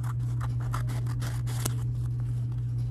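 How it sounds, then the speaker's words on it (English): Duck scissors snip through an embroidered sweatshirt, with a series of short, crisp cuts at close range and no talking. "let me go ahead and get my scissors and cut this out"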